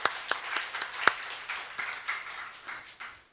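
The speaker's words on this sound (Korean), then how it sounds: "하나님께 영광의 박수" Light, scattered clapping from a few people in a church service, quiet and fading out over a few seconds.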